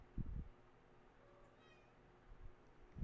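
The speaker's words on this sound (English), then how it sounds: "Starting to hear some meows." A house cat meows faintly in the background of a quiet room, with a couple of short, soft calls separated by near silence.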